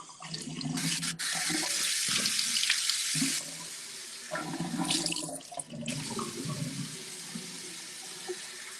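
A bathroom sink tap runs steadily while a face is rinsed, splashing interrupting the flow close by, with no talking.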